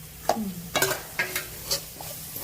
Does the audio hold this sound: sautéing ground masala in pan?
yes